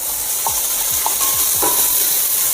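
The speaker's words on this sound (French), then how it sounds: "on vient verser nos lardons à l'intérieur" Bacon lardons hitting a hot pan, giving a loud, steady, close sizzle broken by a few soft clicks and clatters of pieces landing, with no voices.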